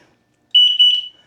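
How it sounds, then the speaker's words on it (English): A SuGoGo mobility scooter horn gives a short, loud electronic beep, a steady tone held about half a second, dipping briefly, then held again before cutting off, with silence around it. "Just a little beep."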